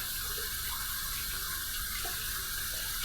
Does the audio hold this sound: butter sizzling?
no